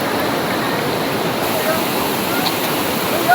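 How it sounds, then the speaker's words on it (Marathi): Water pours down from above in a natural outdoor setting, a loud, steady broadband rush like a small waterfall that continues unbroken throughout. "इकडनं वरनं कसं पाणी येतंय ते बघून बघा तुम्ही"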